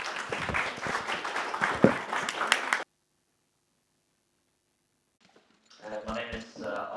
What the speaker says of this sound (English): greetings and applaud to Linda for her writings